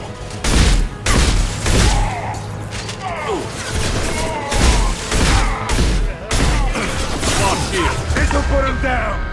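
Gunfire and crashing impacts from a Mass Effect 2 firefight as a loose fuel tank is shot down onto enemies; repeated loud bursts and booms over a dense, chaotic battle mix.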